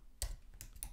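Three quick, soft keystrokes on a computer keyboard, close and quiet, with no talk.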